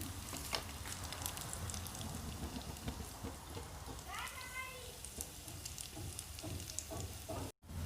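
Onions and cumin seeds frying in hot oil give a steady crackling sizzle that runs throughout, with a few sharper pops and some faint background voices.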